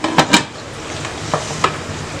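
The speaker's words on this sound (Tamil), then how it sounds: "இப்போ இப்போ நான் குக்கர் மூடி போடுறேன்" A pressure cooker lid, set on without its weight while minced mutton biryani cooks, gives a few short metallic clunks and knocks, two close together at first and then two more spaced apart, over a faint kitchen hiss.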